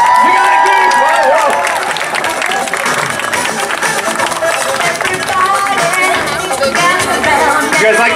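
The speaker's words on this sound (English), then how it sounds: "Cheer on, folks." Crowd at a sea lion show at the Florida State Fair cheering and applauding, a dense wash of clapping and whoops with shouts rising and falling, sustained and loud throughout, with voices mixed in.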